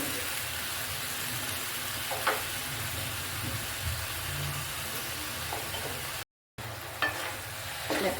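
Marinated chicken pieces frying in a pan, a steady close sizzle with intermittent scraping stirs over a low hum, continuous throughout with one brief dropout.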